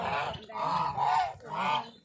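Geese honk three times in a row, loud and near, harsh nasal calls with short gaps between them.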